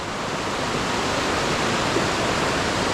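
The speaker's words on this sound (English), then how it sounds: "This stream is quite full now" A full stream rushes steadily near Jajce after a night of heavy thunderstorms and downpour, a dense, continuous roar of water close by with no pauses and no voices.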